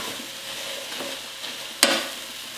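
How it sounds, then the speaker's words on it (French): Onions for French onion soup stirred nonstop over high heat in a pan, a steady frying hiss with soft scraping strokes and one sharp metallic clack near the end, close and with nobody speaking. "Sur ce vif, on va mélanger sans arrêter."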